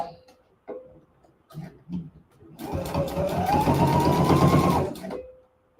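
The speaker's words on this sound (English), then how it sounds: "Let me make sure it's still sewing." A sewing machine stitches steadily for about two and a half seconds after quiet moments of handling, its motor whirring with a fast rhythmic clatter, loud and close.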